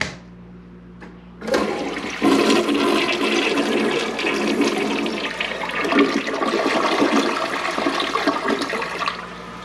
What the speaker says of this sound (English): I love the flush for the rare toilet.